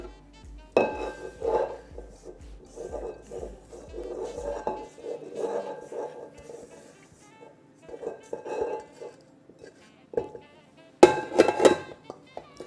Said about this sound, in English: I just want to scrape down the bowl a little bit.